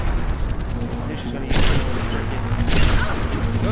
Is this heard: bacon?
no